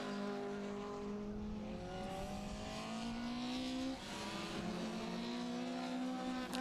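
Race cars roar down the pit straight of a circuit, several engines overlapping in a continuous loud, rising and falling drone with shifting pitch as the pack pours through, no voices.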